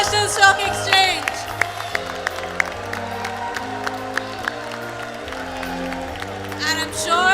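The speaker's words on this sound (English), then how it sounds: "I'm sure the cheer is getting louder by the numbers" A crowd cheers, claps and whoops at a National Stock Exchange listing ceremony for Aequs Limited, the noise rising toward the end, with music and people talking through it.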